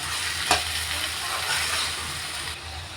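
Ginger garlic paste fries for chicken curry in a pan, giving a quiet, steady sizzle with a brief stir or scrape near the start and no talk.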